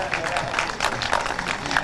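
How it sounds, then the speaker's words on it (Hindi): A seated audience claps steadily in rhythm along to a live Hindi song, the dense clapping blending with crowd noise and a voice throughout. "बस रिदम से मुझे तालियां चाहिए आपकी।"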